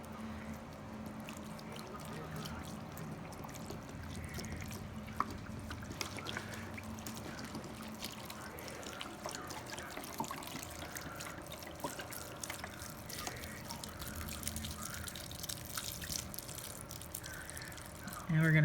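Chicken broth poured into a bowl of cornbread stuffing makes a steady liquid trickle and splash that runs for a long stretch, close and moderately loud, with faint kitchen clatter.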